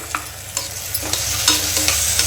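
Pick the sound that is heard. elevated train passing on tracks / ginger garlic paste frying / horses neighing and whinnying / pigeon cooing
ginger garlic paste frying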